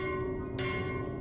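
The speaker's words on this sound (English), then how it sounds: "Ring the bell." A bell rings at an altar in the video game Absolver, a single sustained metallic tone with a brief bright strike partway through, heard alone.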